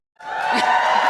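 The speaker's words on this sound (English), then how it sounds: "all you have to say is their name and the crowd goes wild" A Comic-Con crowd erupting in cheers and whoops for Bruce Campbell, bursting in suddenly and holding loud and steady to the end.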